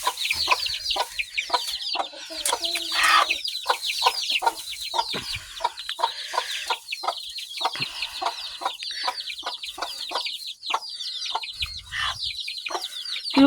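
Japanese bantam hen with her chicks: rapid, repeated high cheeping from the chicks over the hen's lower clucks, close and continuous with no voices.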